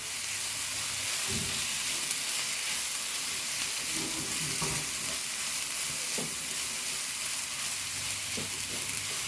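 A taro stem stir-fry (chembu thandu thoran) is mixed in a hot pan, a continuous close sizzle with intermittent scraping stirs of a utensil against the pan and no voices.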